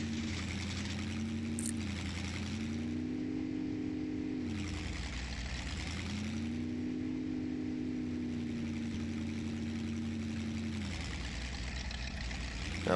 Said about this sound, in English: give it a shot with this truck, which is very loud.